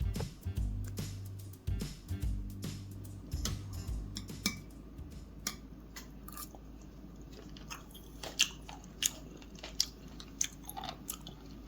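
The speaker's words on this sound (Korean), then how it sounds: "내가 잡은 해삼 먹어보겠습니다" Someone eating sea cucumber caught while foraging on a night shore near Masan, with close wet chewing and crunchy bites, a few sharp clicks and ticks scattered across the clip and no talk.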